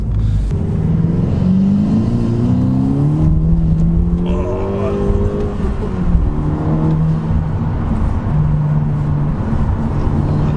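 A turbocharged SEAT Leon Cupra with manual gearbox revs up strongly under load, its pitch climbing through the gears, loud and sustained from inside the cabin.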